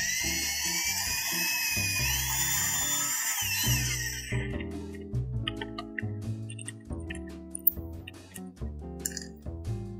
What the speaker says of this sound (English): Okay, so I've drilled my pilot hole.